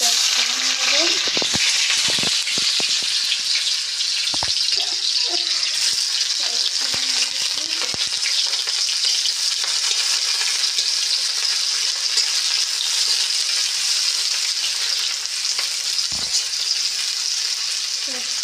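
Oil frying in a wok with okra and potatoes for bhindi chorchori, a loud continuous hiss and sizzle that holds steady throughout, with a voice talking faintly under it now and then.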